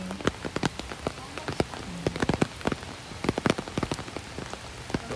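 Heavy rain pours down at Mabinay Spring, a continuous wash broken by many loud, sharp drips and splats landing close by on surfaces, with no talk over it.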